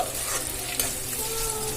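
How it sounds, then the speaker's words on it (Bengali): Loud, steady sizzling of chopped tomato frying in hot spiced oil for chana dal pulao, with light stirring scrapes throughout. "আমি এবারে এর মধ্যে যে কুচানো টমেটোটা রেখেছিলাম আমি সেটা দিয়ে দেব"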